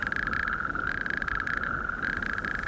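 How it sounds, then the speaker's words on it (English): A toad on the coast of Arran calls with its throat sac inflated, a continuous loud, buzzing trill held close at hand with steady pulsing and no pauses. "it really inflates its throat up, and that acts as an amplifier and makes its voice really loud"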